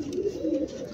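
Pet pigeons coo softly at close range while feeding on scattered grain, a short low burble with no talk over it.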